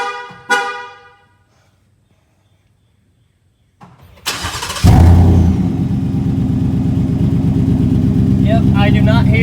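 A Ford F-150 fitted with a Flowmaster Outlaw exhaust cranks and fires up, then settles into a loud, steady, rumbling idle close by, with a brief earlier sound before the start.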